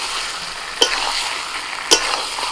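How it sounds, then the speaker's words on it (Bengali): Chicken and potatoes stir-fried in a pan for a spicy ground-paste chicken with mixed vegetables: a steady close sizzle, broken by two sharp spatula knocks against the pan, with no talking. "আলুটা দেওয়ার পর কষানো হয়ে গেছে"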